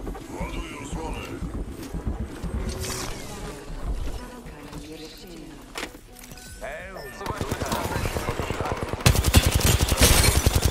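Gunfire from a ranked match in the video game Apex Legends crackles in bursts through a busy mix of game effects, building to dense rapid fire near the end, with players talking over it.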